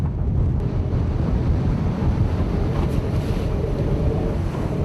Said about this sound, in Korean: 거센 파도가 배전을 집어삼킬 듯 몰아치는 바다 한가운데서 진퇴양난의 기로에 선 흥진호.